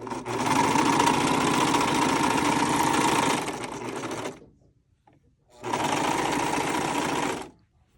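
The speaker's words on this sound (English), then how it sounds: "I'm letting my blade cut a little bit of that seam allowance off." A serger stitches and trims a seam on boxer-briefs, its blade cutting off seam allowance: a loud, steady mechanical whir for about four seconds, a short pause, then a second burst of nearly two seconds.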